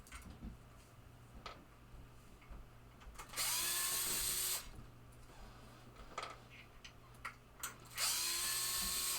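A power drill backs screws out of the head of a 1974 Williams Lucky Ace pinball machine, whirring in two loud bursts of about a second each amid quieter clicks and handling noises.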